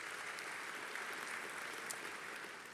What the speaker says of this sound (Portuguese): Vamos aplaudir e ser gratos a eles.